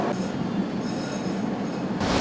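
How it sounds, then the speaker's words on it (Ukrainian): A sightseeing tram pulls away on its rails in Lviv, giving a steady rolling rumble with faint wheel squeal and a sharper hiss of brakes or wheels near the end, close by and without talk. "Екскурсійний трамвай, трамвай відправляється."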